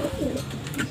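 Pigeons cooing in a loft, a steady low burbling coo filling the short moment, close and continuous with faint background noise.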